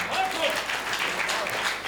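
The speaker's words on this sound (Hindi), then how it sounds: "मैं कह रहा हूं मत बजाओ तालियां" An audience applauds at a poetry recitation about mothers, a dense, continuous burst of many hands clapping that stays loud throughout.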